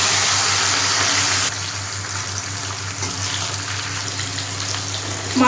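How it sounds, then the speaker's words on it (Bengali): Katla fish pieces frying in hot oil give off a steady, close hissing sizzle that turns a little quieter after the first second and a half and then runs on evenly with no talk. "মাছটা আমার ভাজা হয়ে গেছে"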